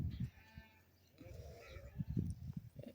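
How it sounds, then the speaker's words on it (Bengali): Goats and fat-tailed sheep bleat in a livestock pen in Saudi Arabia, with several short close calls in the brief span over a low murmur of voices. "এই যে দেখেন ছাগলও আছে, দুম্ব আছে এর ভিতরে"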